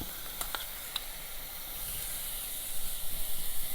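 Garlic and drumstick leaf paste sautéing in a spoon of cow ghee, a steady close sizzling hiss with a few sharp crackles early, swelling louder and more bubbly toward the end, with no talking.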